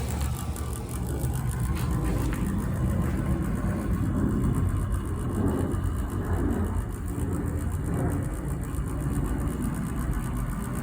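An O scale NWSL Stanton drive motor runs slowly at low voltage, giving a steady, fairly loud whirring hum with fluttering texture throughout, no voices.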